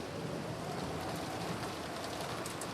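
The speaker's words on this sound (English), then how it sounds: "Shannon and Cannon were holding umbrellas and sheltering them from the rain" Steady rainfall from the video game Umineko When They Cry, a dense, even hiss of rain on surfaces that runs unbroken and fairly loud with no voices over it.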